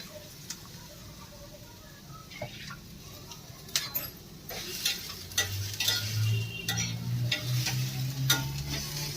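Onion sautés in a pan for masoor dal, giving faint sizzling with scattered clinks and stirring scrapes in a quiet kitchen.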